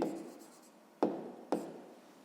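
A pen scratches out numbers by hand on paper during a sixth-grade maths exercise, a soft stroke followed by two sharper taps and brief scribbles, close and quiet.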